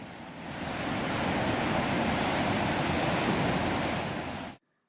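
Steady broadband roar of ocean surf and winter wind at a house on the shore in Acadia National Park, loud and continuous, cutting off abruptly at the end.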